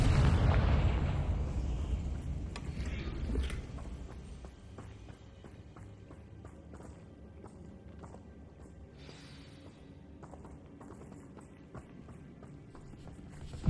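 A Confringo blasting spell explodes in Hogwarts Legacy on PS5, a loud booming burst at the start that rumbles and fades over a few seconds into a quieter crackling, rumbling game ambience.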